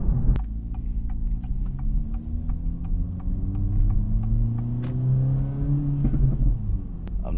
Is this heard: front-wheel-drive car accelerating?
yes